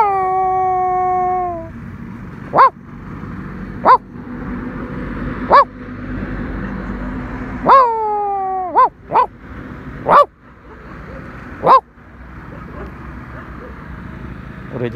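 A dog nearby gives a long whining howl, then a series of sharp, loud barks spaced a second or two apart, with another drawn-out whine partway through, all over low background noise.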